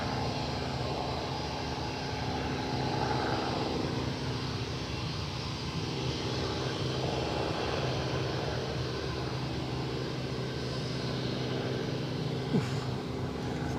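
At Newcastle Airport an aircraft departs, heard as a continuous distant jet roar and rumble that holds steady for about fourteen seconds, with no voices over it.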